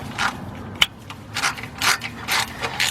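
Close ratchet clicking in short bursts as starter bolts are tightened on a 2005 Chevy Express G2500 van, several quick runs of clicks separated by pauses, no talking.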